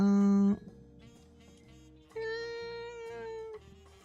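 Two drawn-out cat meows, fairly loud and close, separated by a short pause with faint background sounds.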